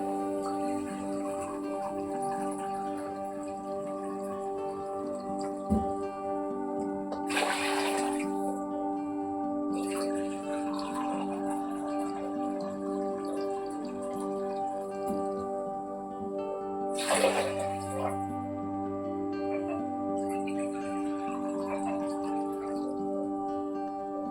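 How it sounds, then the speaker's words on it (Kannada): Two short gushes of water being poured into a cooking pot for foxtail millet pongal, a few seconds apart, over steady background music. "ನಾಲ್ಕು ಬೌಲ್ ನೀರನ್ನು ಹಾಕಿಕೊಳ್ಳುತ್ತಿದ್ದೇನೆ"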